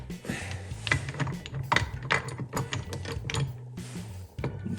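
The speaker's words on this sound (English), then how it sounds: "What I'm gonna do now is take the gearbox, well, the gears out" Gears being pulled from the gearbox of a 1987 KTM 250 GS two-stroke motorcycle during a rebuild: close metallic clinks, scrapes and ratcheting clatter of parts being handled, steady and busy with no talking.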